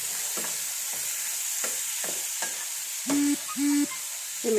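Food being mixed by hand in a bowl while making thoran, a Kerala stir-fried vegetable dish, giving soft intermittent scraping and squelching strokes close by, followed by a few louder, smoother swishes near the end.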